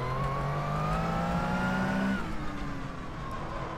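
BMW race car in the rFactor 2 racing game at Sebring, a steady loud engine drone rising in pitch, then dropping abruptly at a gear change and continuing at a lower note.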